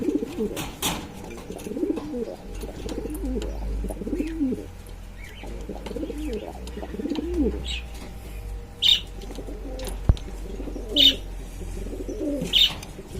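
Racer pigeons cooing in steady, throaty rolling calls close by, with brief wing flaps and bursts of scuffling as birds fight; a few sharp higher chirps cut through near the end.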